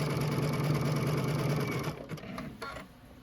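A Baby Lock sewing machine with a walking foot stitches quilt binding with a rapid, steady, close mechanical whir that stops near the end, followed by a few soft clicks and handling sounds.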